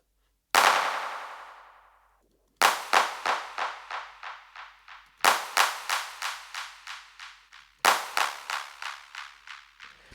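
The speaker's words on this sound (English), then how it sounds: "I can make sure that it's only going to be delaying on this particular clap sound" Four single hand-clap samples in a software sampler, the first ringing out alone and the next three each trailed by a fast, decaying chain of delayed repeats, crisp and close with silence between.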